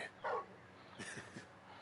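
A puppy in a video game gives a few short yips and barks, a louder burst near the start followed by softer ones, fairly close against a quiet background.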